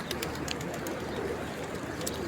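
A flock of pigeons coos softly against a steady wash of outdoor noise, with faint higher chirps coming through now and then.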